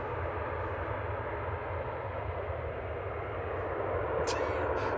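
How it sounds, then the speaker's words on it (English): An ATR 72-600 turboprop airliner arriving at Manchester Airport makes a steady, distant engine roar that holds evenly, with a faint brief sound near the end. "So Reedy coming in from Guernsey there, GPEM, ATR 72600, flight 678."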